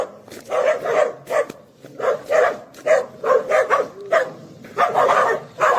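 A dog barks repeatedly in close, loud bursts with short yips and whimpers, the barks coming in an uneven rhythm throughout.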